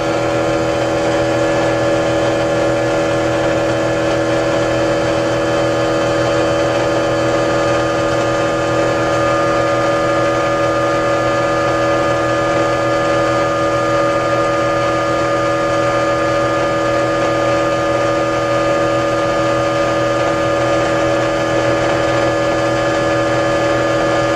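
A steady electric motor hums continuously while driving a load of 100-watt light bulbs, its tone holding even and loud throughout with no clear slowdown.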